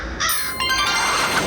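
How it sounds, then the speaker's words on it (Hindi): A crow cawing close by, two quick harsh calls in succession over a faint background, no talking. "अब कौवा जी से दोस्ती करनी पड़ेगी।"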